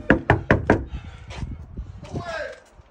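Four quick, sharp knocks land on a door in a close, even rhythm, followed by muffled voices talking nearby.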